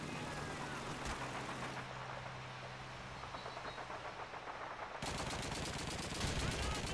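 Rapid bursts of gunfire from a Call of Duty 2 D-Day battle at Pointe du Hoc, dense and continuous through a noisy battlefield mix, sharpening into louder close automatic fire in the final seconds.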